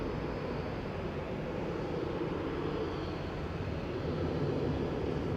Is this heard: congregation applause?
no